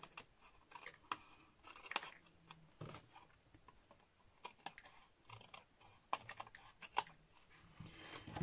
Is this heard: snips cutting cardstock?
yes